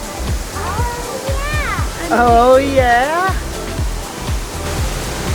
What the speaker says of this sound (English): so we're here at the Aling Aling waterfall